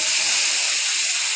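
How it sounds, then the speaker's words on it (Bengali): Water poured into a pan of frying radish and eggplant sets off a loud, steady hiss of steam and sizzle that fills the whole brief moment, with no talking. "এখন আমি এখানে পানি অ্যাড করে দিব"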